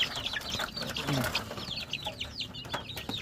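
Chickens clucking and chattering close by, with scattered bird calls and some background noise throughout.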